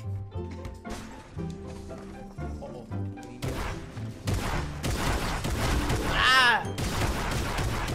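Video game gunfire in creative mode, loud bursts of rapid shots layered over music and game effects, with people talking and laughing over it.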